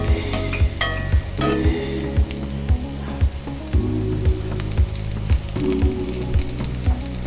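Duck legs searing skin-down in a hot pan give a steady, loud sizzle and crackle, with rhythmic scraping clicks from stirring or shifting the pan throughout.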